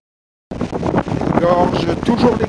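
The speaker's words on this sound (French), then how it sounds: "Le vent se lève." Wind buffets the microphone during a road bike ride through gorges in the Ardèche, a loud, close, continuous rumbling roar that starts abruptly after a brief silence, with voices faintly mixed in.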